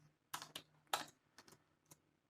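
Close, quiet clatter of a computer keyboard: a handful of quick keystrokes in short bursts, each a crisp tap, with brief pauses between them.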